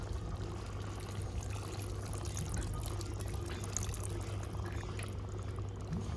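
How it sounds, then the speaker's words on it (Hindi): Steady asafoetida water pouring into a pot of chole paneer curry, a continuous close splashing wash that runs unbroken throughout, with a faint bubbling underneath. "ऐड कर देते हैं छोले पनीर में हींग वाला पानी।"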